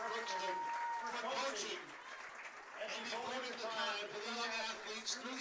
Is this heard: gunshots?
no